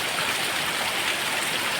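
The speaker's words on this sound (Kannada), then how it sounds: "ನಮ್ಮ ಪಂಪ್ ಸ್ಟ್ಯಾಂಡಿಂದ ನಿಂತು ನೋಡಿದರೆ ಹೀಗೆ ಕಾಣ್ತದೆ ಹೊಳೆ ಹರಿಯುವುದು" Steady rushing water of a river flowing through forest during heavy rain at dusk, a broad continuous wash of noise with no breaks, moderately loud and close, with no voices.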